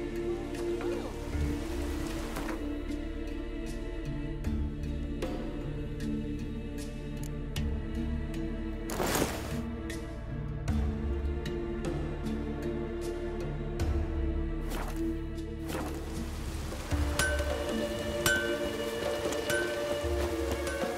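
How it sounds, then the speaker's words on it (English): Light drizzle falls in the Witcher 3 game world, a steady soft patter of rain layered over music and ambient tones throughout. "I hope it keeps to a drizzle."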